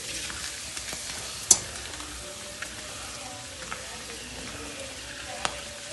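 Chonga fries and puffs in a wok while being stirred, giving a soft continuous sizzle with a few sharp clinks and scrapes from the spatula.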